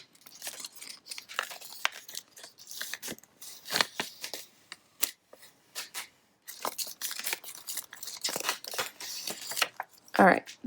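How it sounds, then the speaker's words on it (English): Holographic heat-transfer vinyl backing peels away from an ironed-on design in a series of crisp crackling tears and papery crinkles, close by, with pauses between pulls. "So I'm just going to peel up a corner and just peel away."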